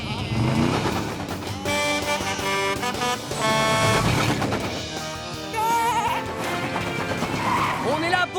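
Cartoon sheep bleating in a children's animated show: several wavering, high bleats, close and bright, mixed with excited character voices and background music.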